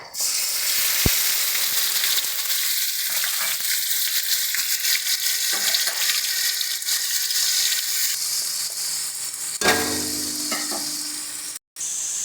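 Spices and onion paste sizzle and fry in hot oil in a pan, with stirring for a Bengali banana flower kofta curry; a steady loud sizzle runs throughout, swelling briefly near the end as more paste goes in.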